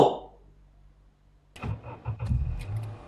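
A car engine cranking and catching in the AM horror game demo, starting after a quiet pause and settling into a rough low idle, fairly close.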